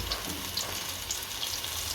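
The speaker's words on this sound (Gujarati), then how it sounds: "અને બીજી બાજુ તળ નાખશું." Chili strip bhajiya fry in hot oil, giving a close, steady sizzle with crackling pops scattered throughout and no voices.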